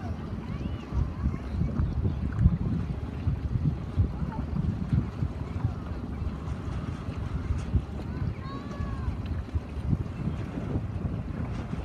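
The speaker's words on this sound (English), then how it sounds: "The wind is coming from your left, so that's why the sail's luffing." Steady wind roars over a small Sabot sailing dinghy racing in a regatta, a dense low rush of gusts and water noise across the whole stretch, with no clear talking.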